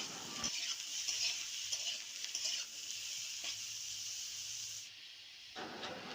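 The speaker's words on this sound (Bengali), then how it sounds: "এরপর বেশ কিছুক্ষণ ধরে নাড়াচাড়া করে সবজিগুলোকে তেলের উপর ভেজে নিতে হবে" Ridge gourd and papaya pieces stir-frying in oil for a vegetarian curry: a soft continuous hiss and sizzle with light stirring clicks, quieter near the end before briefly picking up again.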